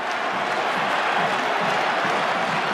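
Steady murmur of a large rugby stadium crowd at a French Top 14 match between Lyon and Bordeaux-Bègles, a broad, continuous hum of voices and faint cheering with no single voice standing out.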